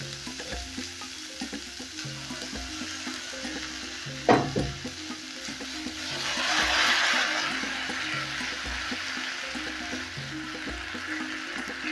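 Blended tomatoes frying in a pot of sausage stew, a steady close sizzle that swells into a louder hiss midway, with a sharp clink of a utensil against the pot and some stirring, no voices.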